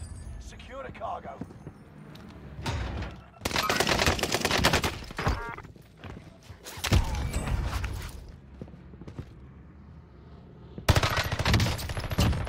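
Automatic gunfire in Call of Duty: Warzone on the Caldera map, several loud, rapid bursts of a fast-firing weapon separated by short quieter gaps, close and punchy, with game ambience between volleys.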